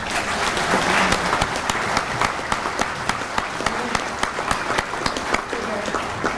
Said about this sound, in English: Let's give these outstanding posts another round of applause